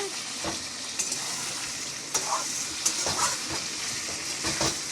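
Chicken and sweet pumpkin fry in oil in a pan with a continuous close sizzle, while a few scrapes and clinks from stirring come through at irregular moments.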